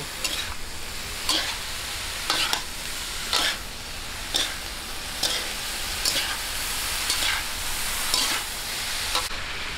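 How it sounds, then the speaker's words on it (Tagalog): Sweet potato and carrots sautéing in a pan under a steady sizzle, stirred in evenly spaced scraping strokes about once a second, with no voices. "Medyo lang po ating i-half cook ng bahagya itong kamote at carrots bago natin ilagay yung repolyo."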